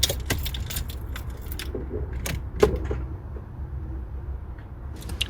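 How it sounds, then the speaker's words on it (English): A car key in the ignition jingles on its keyring, with a few crisp metallic clicks and small rattles over a quiet interior background, and no engine start. "then if we turn our ignition"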